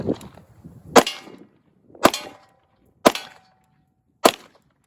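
A Beretta pistol fired double action, four sharp, loud shots spaced about a second apart, each ringing out briefly, with faint sounds of movement between them.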